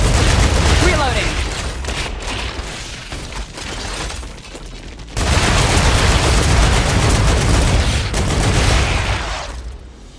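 Loud, dense machine gun fire rips through a StarRupture battle in sustained bursts with booming impacts, a short dip near the middle before it surges again, a voice talking over the chaos.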